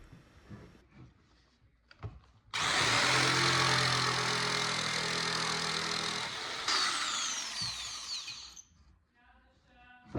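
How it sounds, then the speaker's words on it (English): A jigsaw cuts the curved outline of legs for a 19th-century French farmhouse table, starting abruptly with a loud, steady buzzing whine that runs for about six seconds before cutting off, with quieter workshop knocks before and after. "I'm using the jigsaw to make the curves of the outline of the legs"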